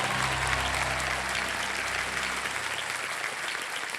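A studio audience on the Kaun Banega Crorepati quiz show claps vigorously: a thick, even wash of applause that holds steady for several seconds.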